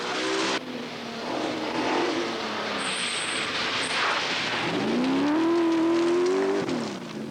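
A big Rover Group A rally car on a forest stage of the 1982 Welsh Rally, its engine droning steadily and loud, pitch rising and falling through gear changes as it passes close by.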